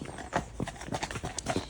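Horse named Mossy walking, hooves clip-clopping in a steady four-beat rhythm, close and fairly distinct against a quiet background.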